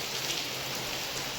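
Heavy rain pours down in a village during a flood-like downpour, a steady, even hiss of falling water that holds throughout, with no talking.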